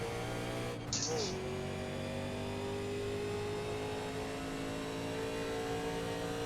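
Legends race cars in a racing video game at Talladega roar steadily as they accelerate at a race restart, a sustained engine drone with a brief rising rev and swoosh near the start.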